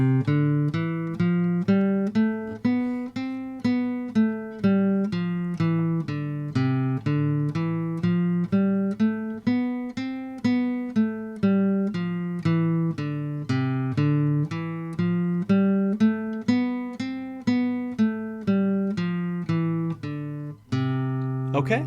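Guitar notes played one at a time up and down a scale in an even, unhurried rhythm, clear and close, with no voice over the playing.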